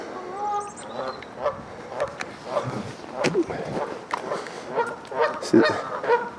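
Ducks honk and quack on a canal in Burnley in a busy outdoor cluster of calls, some close and some farther off, with talk mixed in.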